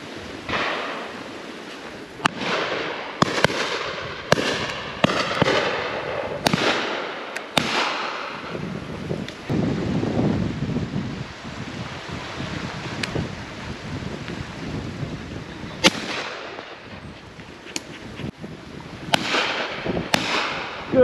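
Shotguns fire at driven pheasants on Exmoor, with a scattered series of sharp reports, some close and loud and others farther off, set against steady outdoor wind noise.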